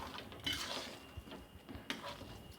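Coconut laddu mixture of grated coconut and milk is stirred in a pan with a metal spoon, giving faint scraping and light clinks at an irregular rhythm, close by and quiet.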